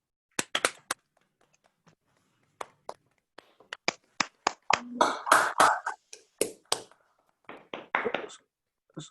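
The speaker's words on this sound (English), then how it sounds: "Maybe we should applause for Clara's great talk." A small academic audience claps after a mathematics lecture on hyper-Kähler manifolds, starting with a few scattered claps that swell into a brief burst of applause before tapering off.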